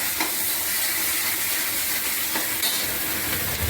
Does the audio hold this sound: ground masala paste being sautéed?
yes